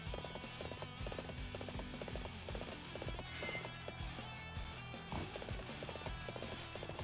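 Horse hooves clip-clop in a steady, brisk rhythm in the Dynasty Warriors 7 video game, set against a dense, continuous backdrop of battle and ambient game sound.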